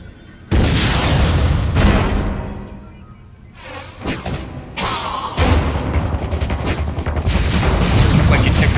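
Missile launched and blasting in the Wii game Metroid Other M: a sudden loud boom opens, followed by rumbling, crackling blasts and shifting combat noise that stay loud and dense throughout.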